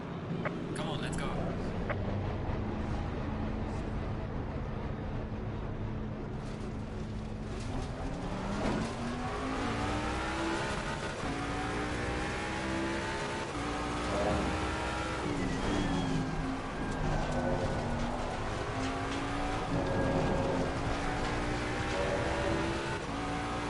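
Race cars accelerating out of the pits during a motorsport race, engines revving and rising in pitch as they pass one after another, a steady loud roar from inside a car with speech over it.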